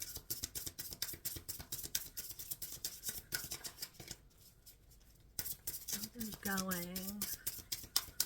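Tarot cards being shuffled by hand produce a brisk run of papery riffling clicks close to the mic, with a voice briefly speaking and humming over part of it.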